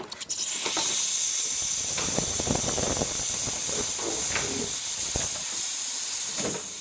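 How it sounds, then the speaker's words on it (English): Loud, continuous steam hissing from a freshly tuned-up Breville espresso machine's steam wand, a steady rushing spray with faint gurgling changes throughout. "Let's test the steam."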